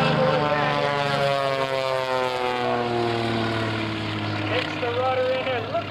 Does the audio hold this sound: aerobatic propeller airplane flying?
yes